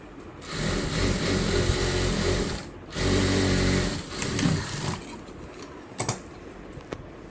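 A sewing machine stitches the lining of a frock in loud, close whirring runs broken by short pauses, ending in a few clicks, with no speech.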